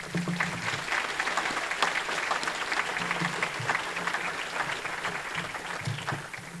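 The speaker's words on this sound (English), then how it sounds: "Please give them a big round of applause" Applause from an audience for inductees at the New England Auto Racing Hall of Fame ceremony: a steady, moderate wash of clapping that holds evenly throughout without a break.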